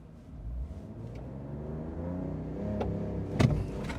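A 2025 Ram 1500 Limited pickup with the Hurricane engine holds a brake-torque launch, its engine droning and building steadily, with a sharp click and a brief thump near the end; no talking.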